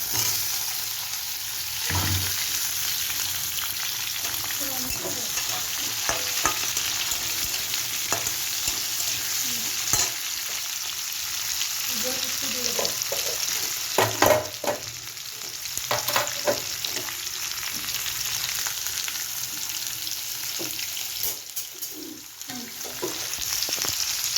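Sweet pumpkin and green chilies frying with dried shrimp and softened onions in a pan, a steady sizzle with occasional stirring scrapes and clinks throughout, moderately close and alone.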